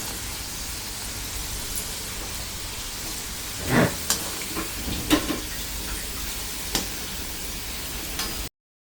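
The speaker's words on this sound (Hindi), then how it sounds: "ये 4 बन गए हैं तो 4 को पहले फ्राई कर लेती हूँ।" Gujiya sweets frying in hot oil give a steady, close sizzle throughout, with a few brief clinks and stirring knocks breaking through midway.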